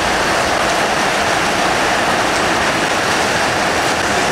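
Steady rain pours continuously in a broad, even hiss, close and loud, with no voices or other sounds over it.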